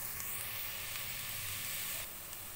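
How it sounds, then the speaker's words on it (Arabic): Onion and garlic sizzle gently in a pan, a soft steady frying hiss that quiets slightly near the end. "طبعا احنا ما بدنا نحمر البصل الثوم كتير"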